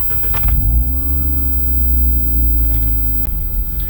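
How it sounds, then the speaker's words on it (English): A Jeep JK fitted with an AFE Mach Force-XP exhaust idles close by, a loud, deep, steady low rumble with faint clicks over it and no talking. "sound test with the new AFE half-inch exhaust installed."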